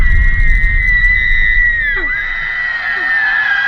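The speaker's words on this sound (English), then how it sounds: "she doesn't speak, she screams, and that scream means someone is about to die" A dramatized banshee scream from Irish folklore: a long, high, eerie wailing tone that bends and wavers over a rumbling backdrop, loud and continuous.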